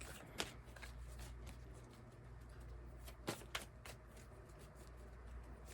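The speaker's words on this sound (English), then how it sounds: "a lot of cards keep falling. Let's try this again. Shuffle again." Quiet riffling and soft slapping of tarot cards being shuffled, with a few sharper flicks, close by over a low background hum.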